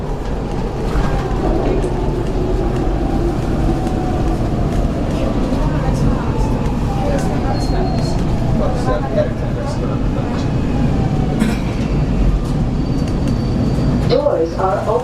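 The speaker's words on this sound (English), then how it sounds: "Frankford train making all stops" A SEPTA Market-Frankford Line subway train running steadily, with a loud continuous rumble and rail roar filling the car, faint squeals riding over it and a clunk near the end.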